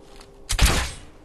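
An arrow from the Skyrim video game strikes an archery target in a single loud, abrupt thud with a short broadband impact that fades quickly, with no speech.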